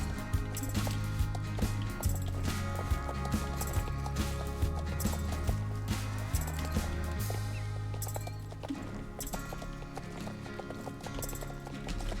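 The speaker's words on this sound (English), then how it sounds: "We're riding the same horse now." Horse hooves galloping in a horse-riding video game, a loud rhythmic clip-clop running steadily through the whole stretch alongside game music and effects, with no talking.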